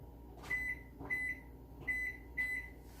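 An oven timer, being set, gives four short high electronic beeps in an uneven rhythm, faint against a quiet room hum with no talk.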